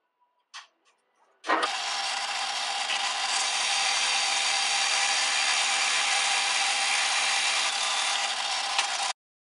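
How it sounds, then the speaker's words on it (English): After a few faint clicks, a drill with a 1 3/8 inch Forstner bit spins up and bores steadily into wood, a loud continuous whir lasting several seconds before stopping abruptly. "I'm going to be using a 1 and 3 8 inch Forstner bit"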